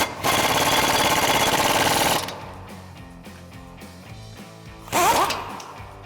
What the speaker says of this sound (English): We'll go ahead and run that back in with our swivel and 18mm on our impact.